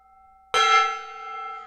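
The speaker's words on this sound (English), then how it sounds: "Thank you for using your channel points so I can hit this gong." A single close strike on a small gong gives a sudden bright metallic crash that settles into a steady, shimmering ring with a long decay, set against a faint lingering hum in a quiet room.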